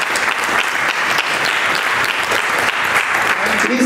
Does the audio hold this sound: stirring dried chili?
no